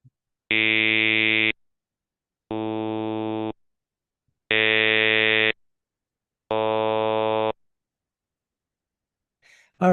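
Four buzzy synthesized vowel sounds from a crude speech synthesizer in a speech-processing lecture, each about a second long and evenly spaced with silent gaps, loud and robotic, followed by a brief breath at the end.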